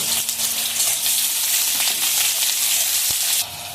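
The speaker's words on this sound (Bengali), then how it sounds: "লাল লাল করে পেঁয়াজ ভেজে নেবো একটু।" Sliced onions fry until red in leftover potato-frying oil for a thin fish curry with drumsticks and lentil dumplings, a steady bright sizzle with stirring scrapes and a metallic tap near the end before the hiss drops.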